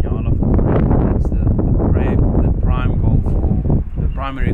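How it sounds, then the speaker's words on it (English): Strong wind buffets the microphone on a windy morning during a spot-and-stalk bowhunt for nyala in Africa, a loud continuous roar and rumble underneath someone talking. "So this morning it's really, really windy"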